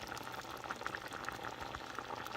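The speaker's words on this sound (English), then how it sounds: "This is the point where it will turn down to a simmer." Clear medium tapioca pearls simmering in water in a pot at home, a soft continuous bubbling with small pops, fairly faint and steady.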